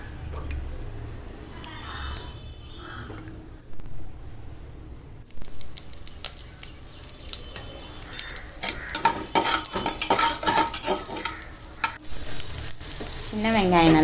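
Mustard seeds and fenugreek sizzle and crackle as they fry in sesame oil, with steady close frying noise, stirring and clinks of a utensil against the pan, growing busier and louder toward the end.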